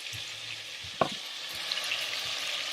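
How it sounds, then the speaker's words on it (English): Oxtail pieces frying in a pan, a steady close sizzle and hiss running throughout, with a single sharp knock or scrape of a utensil near the middle and low thumps from handling the pan. "We'll fry them on both sides."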